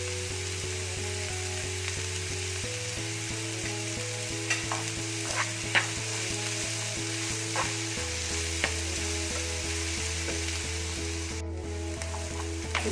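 Onions fry in a hot pan and are stirred now and then, a soft steady sizzle with light scraping clicks, while faint instrumental music plays underneath throughout.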